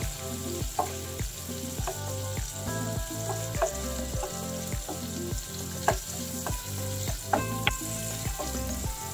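Shrimp sizzling in a hot pan for a cucumber and shrimp dish in tomato sauce: steady, close frying hiss with repeated scraping and stirring clatters at a regular rhythm, no talking.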